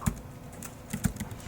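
Quick keystrokes on a computer keyboard while entering a console command, a few sharp close clicks with short gaps between them and no speech.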